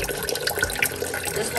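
Water trickling back into a reptile enclosure from a siphon, a steady close splashing flow that runs unbroken through the whole short stretch.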